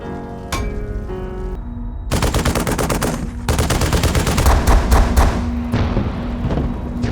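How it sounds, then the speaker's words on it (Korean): Gunfire breaks out in a wartime film scene aboard a refugee barge under fighter plane attack, sudden loud bursts of rapid rattling shots with heavy cracks and booms, close and dense. "전투기를 향해 쏘는 총알 한 발."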